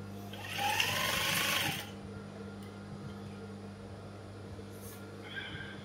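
A sewing machine stitches a shirt collar in one short, fast, whirring run of about a second, then stops, leaving quiet room hum and a faint click.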